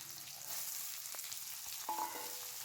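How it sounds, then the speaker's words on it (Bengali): Potatoes and soybean chunks frying together in a pan, a soft continuous sizzle with faint stirring scrapes and a light clink, heard quietly and without talk. "আলু সোয়াবিনটা একসাথে ভাজা করে নিচ্ছি"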